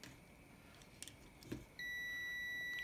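A multimeter on continuity test gives a steady, thin electronic beep while probing a kitchen toaster. It starts partway through after some faint clicks and handling noise and holds at a quiet level to the end.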